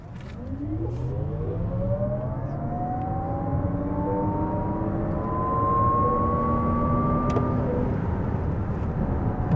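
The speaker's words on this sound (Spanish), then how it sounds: "Prueba de aceleración, modo sport." A Lexus RZ 450e electric car accelerates hard in sport mode, its motor whine rising smoothly in pitch over steady road and wind rush for nearly ten seconds.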